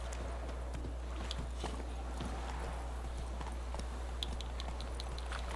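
Roach the horse gallops in The Witcher 3, a quick steady patter of hoofbeats over a constant low hum, moderately near and continuous without talking.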